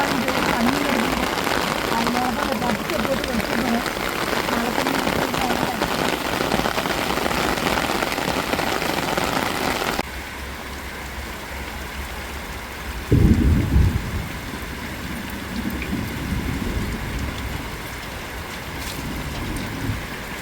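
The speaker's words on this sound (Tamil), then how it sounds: "பாருங்க நல்ல மழை அடிச்சு ஊத்திக்கிட்டு இருக்குங்க இப்பதான் தான் மழை ஊற்றுது" Heavy rain pours down in a village during a thunderstorm, a dense steady roar that drops to a softer hiss halfway through, with a brief low rumble; a person speaks over it.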